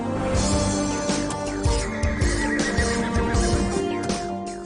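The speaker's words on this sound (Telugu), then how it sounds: "ఆ గుర్రం." A wild, powerful horse whinnies in a movie scene, long loud neighs rising and falling over several seconds, mixed with hoof clip-clop and stable commotion.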